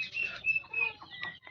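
Chickens newly brought into a shed give a few short clucks and chirps, close and moderately quiet, with a faint flutter of wings and no talk.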